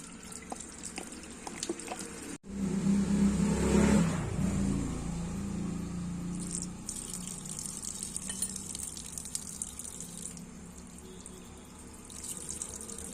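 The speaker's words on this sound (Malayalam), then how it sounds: "നമുക്കിനി ഇച്ചിരി പച്ചവെള്ളം ഒഴിക്കണം." Plain water pours into the radiator of a Pulsar NS 200 motorcycle during a coolant flush, a steady splashing gush that swells for a few seconds and then settles into a continuous trickle, close by with no talking.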